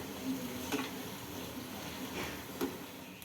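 Jalebi frying in hot oil, a soft, fairly faint sizzle with a couple of brief stirring clinks.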